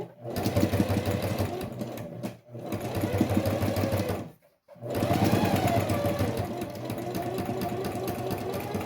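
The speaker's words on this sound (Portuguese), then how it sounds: "colocar aqui mais uma costurinha de reforço" A sewing machine stitches a reinforcement seam on a pencil case, running in loud mechanical bursts with two brief pauses as it reverses and goes forward again.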